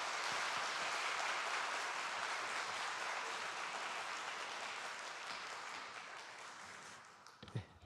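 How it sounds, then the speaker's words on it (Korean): A church congregation welcomes a new pastor with broad, sustained applause that tapers off near the end, ending with a few scattered louder claps. "그런 뜻으로 박수로 맞이하겠습니다."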